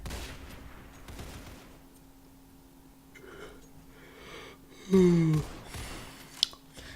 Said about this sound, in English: he's trying to wallbang, but maybe he gave away his position with that